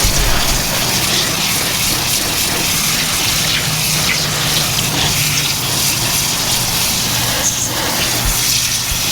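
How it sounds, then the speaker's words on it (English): Running water gushes steadily and loudly while a horizontally pleated tie-dye T-shirt is rinsed outdoors, a continuous close splashing rush with no speech. "Try to stay out of the direct water flow."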